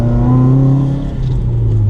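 Stage 2 tuned 2016 Subaru WRX given a bit of throttle in first gear, its engine note climbing in a brief, smooth pull heard from inside the car.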